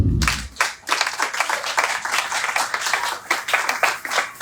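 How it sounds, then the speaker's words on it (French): Congregation at a French-language prophetic teaching session applauding loudly, a dense burst of clapping after a brief pause, steady and sustained, with a few voices mixed in. "Est-ce qu'on peut acclamer très fort?"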